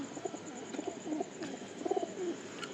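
Pigeons coo softly inside a loft, several low, throaty calls repeating in gentle bursts at a fair distance over a steady background hiss.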